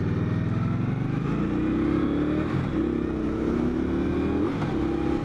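An Indian Scout Sixty motorcycle converted to a bobber runs with a loud, steady engine drone, rising slightly in pitch as it accelerates and easing off at shifts, heard close and continuous with no speech.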